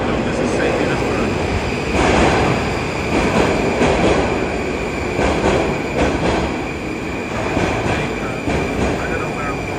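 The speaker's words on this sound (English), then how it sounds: "Petersburg Metro, Russia." St. Petersburg Metro subway train rumbling loudly through a tunnel, with steady rolling noise, rhythmic wheel clacks and faint squeals, heard from inside; a voice speaks faintly beneath the din.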